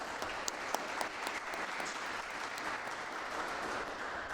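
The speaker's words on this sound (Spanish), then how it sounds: "Así que felicitaciones y un aplauso para ellos que estuvieron acá." An audience at a university mock jury trial claps in steady, sustained applause, fairly distant and even in level, with a few sharper individual claps standing out.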